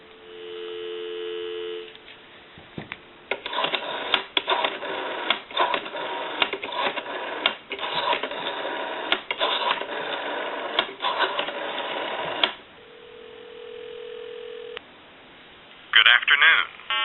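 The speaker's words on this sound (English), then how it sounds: "Go ahead and give you some dial tone." A Western Electric rotary desk telephone gives a steady dial tone briefly at the start and again later, between stretches of clicking, buzzing line noise and electronic chirps.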